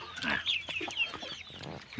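Burmese chickens on a farm clucking close by in quick, uneven bursts with sharp squawky notes, fairly quiet overall and with no talking.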